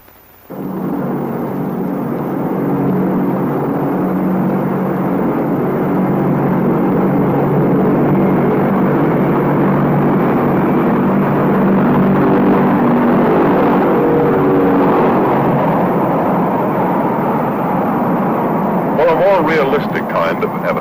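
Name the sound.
B-36 and B-47 bomber aircraft flying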